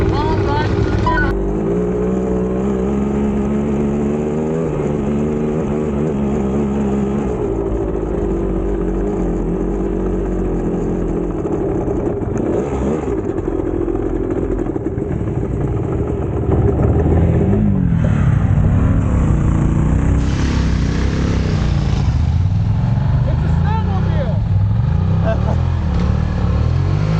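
2-stroke enduro dirt bikes ride through sandy New Jersey pits, engines revving and buzzing with rising and falling pitch, one pulling a wheelie, while people talk over the engine noise.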